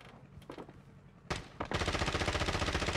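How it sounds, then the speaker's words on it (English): Gunfire in Call of Duty Warzone: a few isolated shots, then a sharp burst and a steady rapid automatic stream, fairly distant and moderately loud. "And they're shooting the third team."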